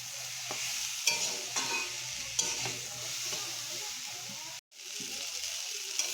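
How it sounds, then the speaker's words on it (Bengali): Ridge gourd and potato curry, salted, sautéed in a pan with steady sizzling and occasional sharp spoon scrapes and stirs; a brief silent gap falls near the end before the frying resumes. "এবার আমরা এটা একটু কষিয়ে নেব"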